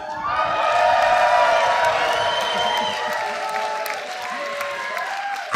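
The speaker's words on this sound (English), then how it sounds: "let's give him one more huge round of applause" Crowd applause and cheering at a chessboxing show, with whoops and shouts over steady clapping that stays loud and dense throughout.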